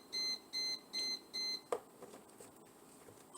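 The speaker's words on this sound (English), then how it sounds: "That's my bread machine beeping back there." A bread machine beeps four times in an even, steady rhythm, each tone held about a quarter second, sounding from a distance across a home kitchen; after the beeps a sharp clatter and low kitchen rustling follow.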